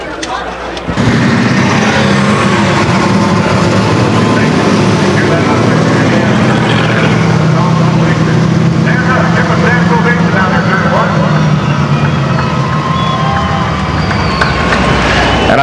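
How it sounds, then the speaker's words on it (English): Pure stock race cars start up at Stockton 99 Speedway, a loud, sustained roar of several engines idling and revving together. A commentator talks over the engine noise. "Let's get some engines fired up."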